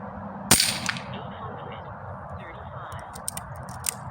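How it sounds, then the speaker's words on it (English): A Brocock Sniper XR .25 air rifle fires once at tree limbs outdoors, a sharp, close crack followed by quieter clicks and taps, with someone talking faintly underneath. "I'm shooting at some tree limbs down the way."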